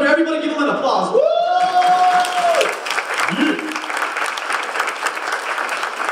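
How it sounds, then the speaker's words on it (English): A banquet audience breaks into loud, dense applause with cheering, while a voice whoops over the crowd and clapping carries on steadily to the end. "Everybody give them an applause."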